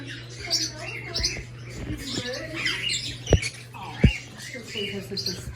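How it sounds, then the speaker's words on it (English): Pigeons at a bird farm calling in short chirps and squawks among scattered clicks and rustling, with people talking nearby. "Who's making that noise? The pigeons."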